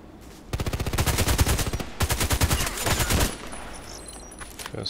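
Rapid bursts of automatic gunfire in a shooter game on the Interchange map, two long strings of evenly spaced loud shots with a short break between, then quieter ambient game sound.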